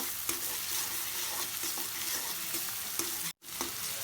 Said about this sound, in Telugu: ఇప్పుడు ఇందులో 1 స్పూన్ అల్లం వెల్లుల్లిపాయ పేస్ట్ కూడా వేసి బాగా మిక్స్ చేసుకొని